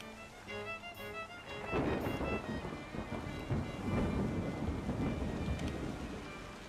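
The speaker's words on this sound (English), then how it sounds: "Comes a storm." A thunderstorm in the Yonder video game brings a heavy rolling thunder rumble over a constant wash of rain.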